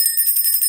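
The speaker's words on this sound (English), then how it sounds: "Let's ring a bell." A bell rung by hand at a New Year's Eve spiritual celebration gives a bright, high, shimmering ring that sustains loudly through the short moment, heard alone.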